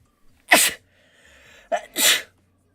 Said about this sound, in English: Oh, I'm so sorry that you have to hear me sneeze.